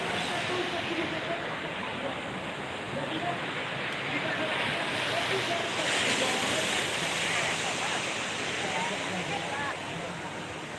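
Sea waves wash steadily at Taplau beach in Padang, a broad continuous surf roar with some wind noise, fairly loud and unbroken with no clear speech.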